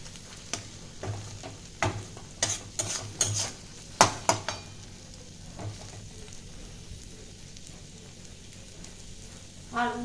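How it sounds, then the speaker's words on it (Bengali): Mashed pointed gourd for potol bharta fries in oil in a wok, with a soft background sizzle and a cluster of scraping spatula strokes mid-way that fade back to gentle frying. "এটা আমি এখানে 2-3 মিনিট ভালো করে কষাবো।"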